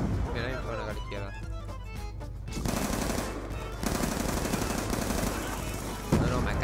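Rapid machine-gun bursts from a first-person shooter game, dense and loud, crackling continuously with overlapping gunfire and a sharp jump near the end; someone talks over the shooting.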